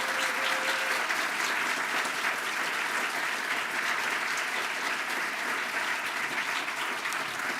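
Sustained audience applause closing a public talk on race, justice and the economy, dense, even and fairly loud throughout several seconds without voices.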